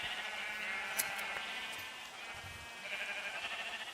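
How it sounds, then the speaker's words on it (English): Sheep bleat in the Minecraft video game as a crowd of them presses together, producing faint, repeated nasal calls over a steady background hum. "I'm like getting entity crammed by sheep."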